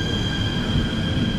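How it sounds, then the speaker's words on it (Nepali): A Korean ITX train rolls past close by, producing a loud, continuous rumbling roar with a high metallic ring from the rails, steady across the short moment with no voices. "कोरियाको आइटिएक्स रेल भन्ने आइयो है दाजु हेर"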